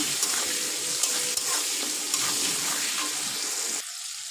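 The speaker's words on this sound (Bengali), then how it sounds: "টমেটোটা দিয়ে ভালো করে একটুখানি ভেজে নেব" Tomatoes frying in a pan with cinnamon, cloves and cardamom for a vegetarian potato curry, giving a steady close hiss and crackle that runs continuously before cutting off abruptly near the end.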